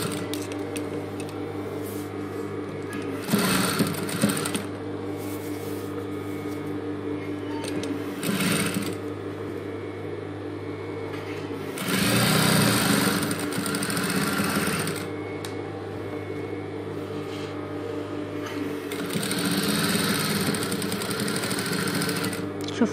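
A sewing machine runs steadily while stitching a zipper into fabric, its motor humming continuously with bursts of faster, louder stitching and short pauses between passes, close to the microphone.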